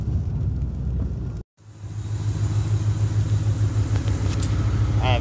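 A 2018 Whipple-supercharged Mustang GT with tune issues rumbles steadily at close range while driving, with a brief dropout before the low engine drone resumes and holds evenly.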